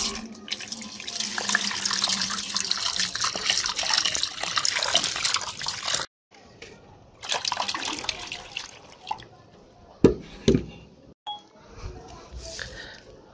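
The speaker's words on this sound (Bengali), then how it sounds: "তাহলে চলুন আমরা এখানে জল দিয়ে দিই।" Water pours from a tap over a one-kilogram coco peat brick, a steady splashing stream for several seconds, then broken, lighter gushes and drips.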